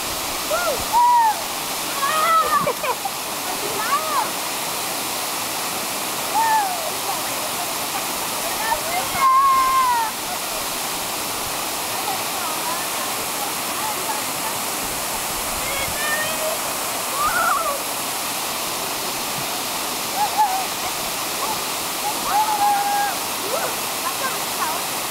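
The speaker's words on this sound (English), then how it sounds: "We are right now in the Amazon River." Broad steady rush of Amazon River water flowing continuously and fairly loud, with a few whoops and shouts from people scattered through it.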